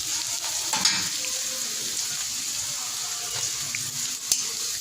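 Chopped onions fry in hot oil with whole cumin in a karahi, giving a steady sizzle with faint stirring scrapes and a few sharp clinks, close and moderately loud, with no voices.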